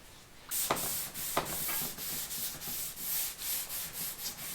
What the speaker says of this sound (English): I'm gonna do a little wet sanding